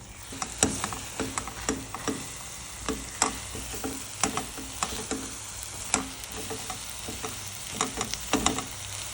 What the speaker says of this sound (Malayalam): ഈ ബട്ടർ ചൂടായതിലേക്ക് നമുക്ക് ഈ മുട്ട ഒഴിക്കാം.